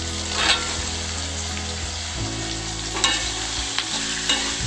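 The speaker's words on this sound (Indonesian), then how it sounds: "Aduk dan gongso-gongso biar bercampur merata." Tofu stir-fried with shallots, garlic and chili in a pan, a loud continuous sizzle broken by scraping stirs and occasional clanks of the spatula, with no talking.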